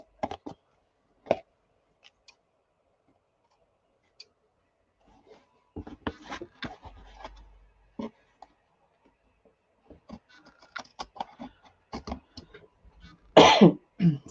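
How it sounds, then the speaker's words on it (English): A person coughs and hacks in a quiet room, scattered throat-clearing bursts and coughs, with a louder harsh cough near the end, amid faint small clicks and taps. "I got all kinds of coughing and hacking going on"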